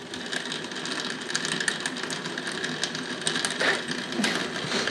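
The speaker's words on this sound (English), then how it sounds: "to scoop up the stuff and put it in the blender" A blender purees curried carrot soup in a kitchen, giving off a fairly quiet, continuous mechanical whir with a rattling, grinding texture throughout.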